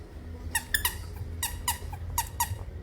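A squeaky dog toy giving a run of sharp, high squeaks, about eight short squeezes in irregular pairs and singles, fairly close, over a low background hum with no talk.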